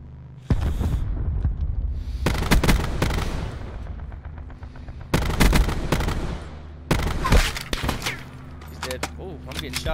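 Heavy gunfire in Call of Duty Black Ops 4 battle royale comes in repeated loud bursts and volleys with booming blasts between them, while players talk over the shooting.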